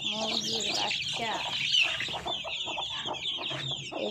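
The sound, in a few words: chickens and chicks clucking at a poultry farm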